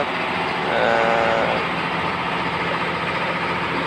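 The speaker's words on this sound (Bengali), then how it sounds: "দেখেন ইঞ্জিনটা বেশ বড় এবং অনেক লাউড হচ্ছে, লাউডে শব্দ হচ্ছে।" Large, loud engine of a river launch boat on a Sundarbans river trip, a steady close mechanical drone that fills the whole clip without pause.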